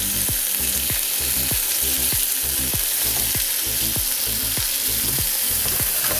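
Halloumi cheese searing in a hot frying pan, a loud continuous sizzle with a regular series of sharp pops or taps roughly every half second, close and steady throughout with no voices.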